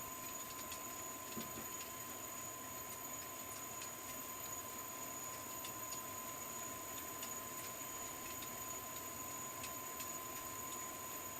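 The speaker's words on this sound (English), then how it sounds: "The engine's eventually going to stop." Steady whine and hum of a simulated jet engine in a CL650 flight simulator, a constant drone with a sharp high tone that runs unchanged the whole time.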